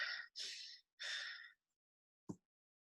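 A person imitates an animal's rapid one-to-one breathing, three quick breathy puffs of air in close succession followed by a short soft snort, close and alone.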